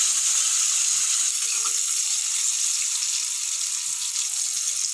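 Diced medium potatoes frying in hot oil in a pan, a steady bright hiss of sizzling that carries on evenly throughout, close and fairly loud, with no talk.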